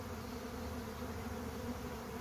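Honeybees swarming at a hive give off a continuous, steady, low droning hum that holds evenly throughout at moderate distance, with no speech over it.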